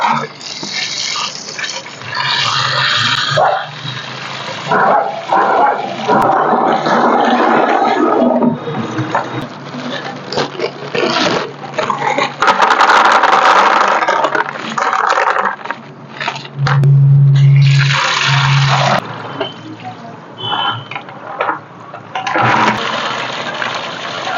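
Lava rock aquarium media is washed in water, with continuous splashing, rinsing and gritty crunching of stones stirred by hand, loud and close, with brief gaps and no talking.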